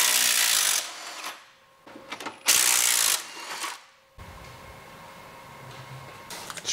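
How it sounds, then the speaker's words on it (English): On a 2JZ-swapped Toyota Crown, a gear shifter is worked into gear with two harsh, noisy mechanical scrapes and clunks up close, followed by a quieter rattle and light handling noise. "Just gotta put the gearbox in gear."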